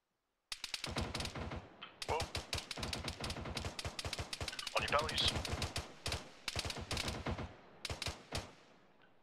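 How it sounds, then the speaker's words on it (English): Machine gun fire in the military video game Arma 3 rattles in rapid, sharp bursts that run almost continuously for about nine seconds, close and punchy, with brief gaps between strings of shots. "That was MG."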